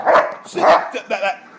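A very large dog of about 200 pounds barks three times in quick succession, close and loud, with deep throaty woofs and short gaps between them, outdoors in Los Angeles.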